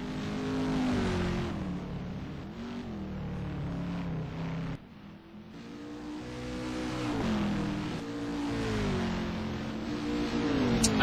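Race cars accelerating and sweeping past during a circuit race at Sugo, engines rising and falling in pitch as they pass, loud and continuous with repeated waves of revving over about eleven seconds.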